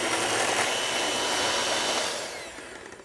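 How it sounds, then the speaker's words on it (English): Sweet potato pancake batter being whisked in a bowl, a continuous close whirring rush that fades over the last second, with no talking. "And then we're gonna go ahead and whisk this again."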